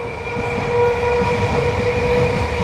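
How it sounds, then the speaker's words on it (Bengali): A train passing near woodland in the Sundarbans region, a loud steady rumble with tonal wheel and horn-like hum, close and continuous with no talk. "ট্রেনটা এদিক থেকে যাচ্ছে"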